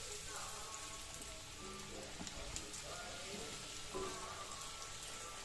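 Cut potatoes for homemade French fries fry in hot oil on a gas stove, giving a steady, close crackling sizzle throughout, with a few soft clinks or movements over the bubbling.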